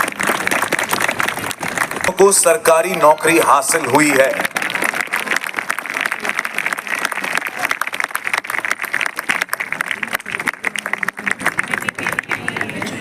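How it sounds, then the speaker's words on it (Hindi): An audience at a police ceremony bursts into applause, a burst of crowd clapping and cheering that rises early then continues as a ragged, sustained patter, with a voice speaking over it. "आपके सैक्रिफाइस के लिए, आपके काम के लिए बहुत जोरदार तालियां और आपको सलाम।"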